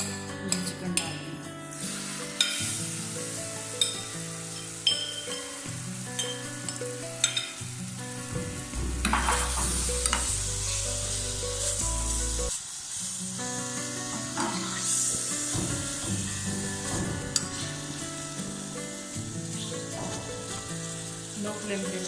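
Chicken pieces for homemade shawarma cook in spoonfuls of oil in a pan over low flame, a continuous sizzle with occasional utensil clinks under steady background music.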